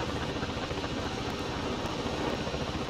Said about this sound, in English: I can't hear a thing you're saying over this silent helicopter.